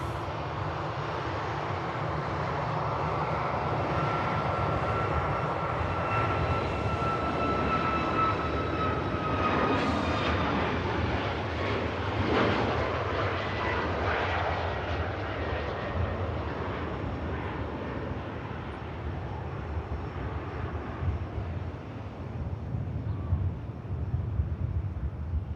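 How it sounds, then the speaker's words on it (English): A Vueling Airbus A321neo arriving from Barcelona comes in to land at Manchester Airport, its engines a loud, steady roar with a shifting whine that swells and holds across the approach, with no talking. "Here is a Vueling 321 Neo from Barcelona next to touchdown."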